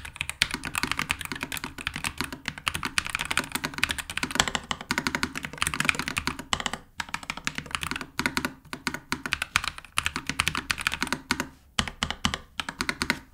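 Rapid, continuous clacking of a Nuphy Air75 V2 mechanical keyboard with Daisy switches, close and crisp with brief pauses between flurries of keystrokes.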